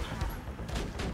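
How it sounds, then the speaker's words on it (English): Rapid pistol fire from the video game Borderlands 2, dense overlapping shots mixed with game effects, fairly loud and continuous across the short stretch. "Man, this pistol is really inaccurate."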